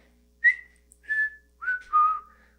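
A whistled melody from the ending of a soul song, four clear, sustained notes with short gaps between them, alone against near silence.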